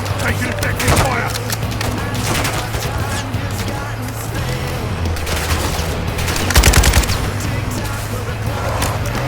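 Video game gunfire during a helicopter car chase, rapid bursts of shots and thuds crackling continuously with a louder cluster near the end, over a steady engine drone, with voices talking over it.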